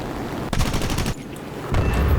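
Aircraft machine guns fire in the War Thunder flight game as loud close bursts with a short pause between them and a low rumble underneath, with no talking.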